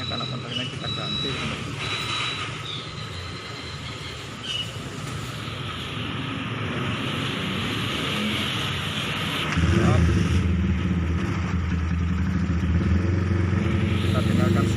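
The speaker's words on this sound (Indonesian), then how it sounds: "Kita dengarkan suara mesin ya." A Honda Tiger motorcycle engine with a modified camshaft idles steadily up close, a continuous smooth hum that thickens and grows slightly louder partway through, with no clear talking over it.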